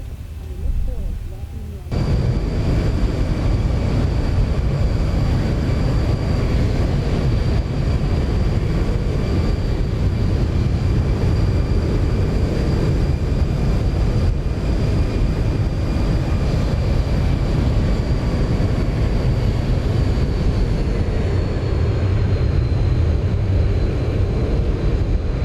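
Airliner taxiing after landing at London Gatwick in X-Plane 11, with a steady, loud engine rumble and whine that starts abruptly and drones on unbroken.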